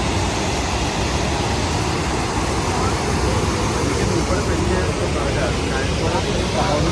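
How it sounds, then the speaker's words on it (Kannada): Water rushes at Pykara Falls near Ooty, a steady broadband roar that stays level and loud throughout with no gaps. "ಹಿಂಗ್ ಹರಿತೈತೆ ನೋಡ್ರಿ ನೀರು"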